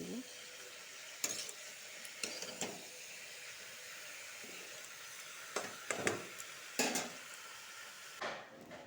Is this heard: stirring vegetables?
yes